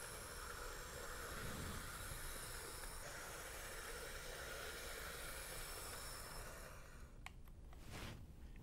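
A Piko starter-set model train locomotive runs steadily along its track with a low, continuous rumbling whir and a faint hiss, then a few light clicks near the end.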